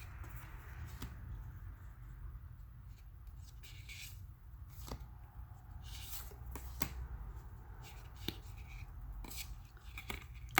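Matte-finish oracle cards, slightly sticking together, are shuffled by hand in a quiet room, giving soft, scattered riffling and flicking ticks over low background hum.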